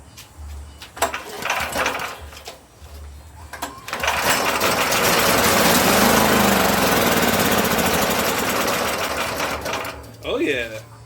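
A Powerhorse portable generator engine, with carb cleaner sprayed into the carburetor, catches and runs loudly for several seconds with a rattling, buzzing roar, then dies away as a voice speaks briefly.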